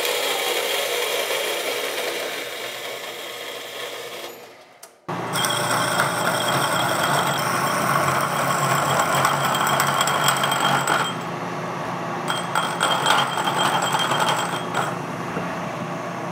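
A hole saw cuts a miter into the end of a bicycle frame tube, giving a steady grinding, rasping whir that pauses briefly near the start and then carries on continuously, close and fairly loud.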